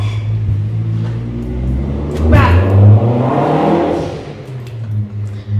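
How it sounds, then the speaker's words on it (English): A noisy car rumbles and then revs hard as it zooms away, the engine sound rising and swelling in the middle before fading back into a low, steady rumble. "I can't believe these people who had a noisy car to just zoom away."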